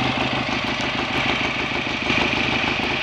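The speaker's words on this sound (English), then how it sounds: "I let it run on what petrol is in the carburetor" A BSA A65 Thunderbolt twin motorcycle engine idles steadily on the fuel left in its carburetor, a close, even, throbbing beat with no voices.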